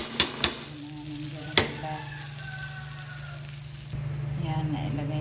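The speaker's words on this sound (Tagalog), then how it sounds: "Yan, nailagay ko na yung bihon. Haluin lang natin." Pancit bihon rice noodles stir-fried with oyster sauce in a pan, a steady sizzle under a few sharp clattering strikes of a utensil, the frying growing louder and brighter near the end, with a person talking briefly.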